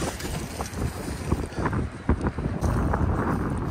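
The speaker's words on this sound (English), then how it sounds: "this wind is like really aggravating" Strong wind buffets the microphone beside a dirty California lake during magnet fishing, roaring and gusting unevenly throughout with no voices.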